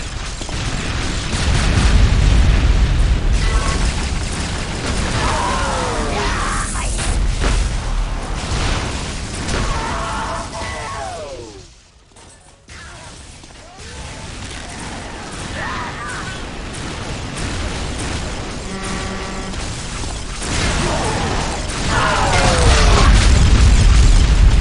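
Heavy booming explosions tear through the main gate in the video game Unreal Tournament 2004, loud rumbling blasts that dip briefly in the middle before swelling again amid ongoing battle noise.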